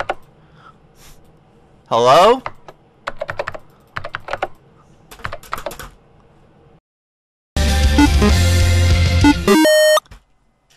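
Keyboard typing and mouse clicking during play of the computer game Organ Trail, with bursts of rapid key taps between game sound effects and a loud musical passage near the end; a person speaks briefly.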